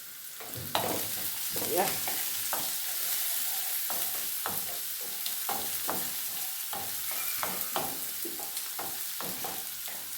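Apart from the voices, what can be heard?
onions frying in a pan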